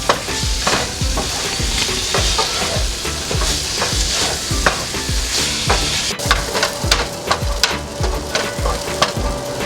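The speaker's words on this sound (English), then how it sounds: "So we're gonna keep stirring our ladle to avoid stucking in the bottom." Beef sizzles steadily in a hot pan while a ladle scrapes and stirs in a quick, repeated rhythm, close up.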